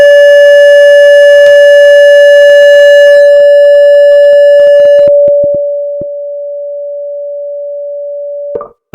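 A loud, pure steady test tone holds for several seconds, its level stepping down partway through, then briefly swells again at the end.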